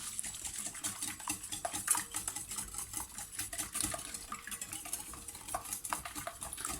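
Sugar and eggs being mixed in a bowl for a yogurt chocolate cake make quick, continuous scraping and clinking strokes of a utensil against the bowl, fairly faint and close, with no talking.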